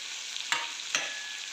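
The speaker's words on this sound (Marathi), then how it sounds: "फोडणी उडाली आहे आता आपण कांदा टाकून घेऊया" Onion frying in hot tempering oil for a Marathi onion bharad bhaji, a continuous close sizzle with two brief spatula scrapes stirring the pan.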